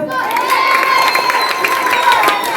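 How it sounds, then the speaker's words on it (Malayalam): A crowd of children cheering and shouting at an anti-drug awareness class, a continuous loud burst of voices with some clapping mixed in, filling the whole moment. "ഒരു നല്ലൊരു കൈയ്യടി കൊടുത്തേ."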